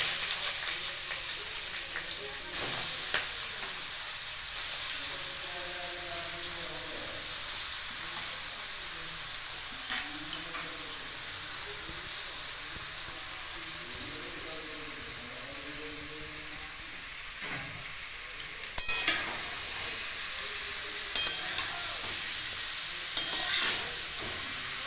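Bottle gourd is stirred in hot oil in a pan with five-spice and slit green chillies, giving a steady soft sizzle broken by occasional scraping stirs. No talk.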